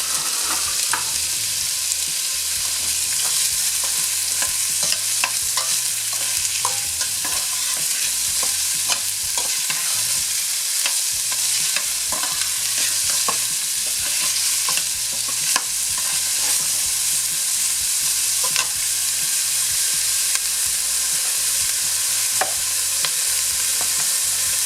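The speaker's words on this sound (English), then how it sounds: "Let's saute our onion until it's translucent." Onion sautéing in a pan for sinigang, after garlic and ginger, sizzles and crackles steadily with frequent stirring scrapes throughout, close and fairly loud with no talk.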